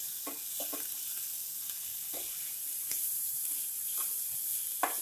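Chopped vegetables and capsicum for oats masala sautéing in a pan, a soft steady sizzle with brief scraping stirs now and then, fairly quiet and close, no talking.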